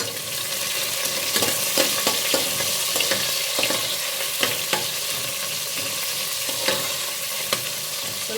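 Finely chopped onion fries in a pan for ghee rice, a steady close sizzle broken by repeated scraping strokes of a spoon as it is stirred.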